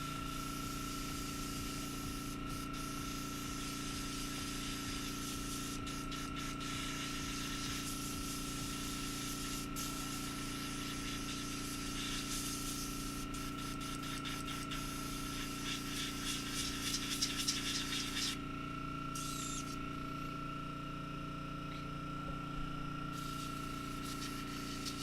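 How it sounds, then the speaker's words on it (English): An airbrush sprays during cleaning, giving a steady, close hiss over a constant mechanical hum that runs unbroken throughout, with brief sputtering changes near the end and no talking. "airbrush is cleaned up for now"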